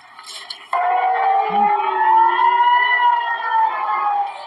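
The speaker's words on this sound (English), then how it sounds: "Air raid sirens blast as people in Israel are warned to take cover in bomb shelters." A loud, sustained air raid siren in Israel starts abruptly and holds steady, its pitch slowly wavering, with a brief faint sound before it begins.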